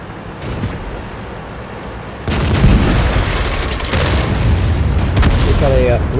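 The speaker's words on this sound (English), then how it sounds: "We've got a bulldog. Fast firing gun." A Bulldog light tank firing its fast-firing gun in World of Tanks, with a sudden loud cannon boom and continuing heavy battle rumble, sharp shot cracks and engine noise over a steady background.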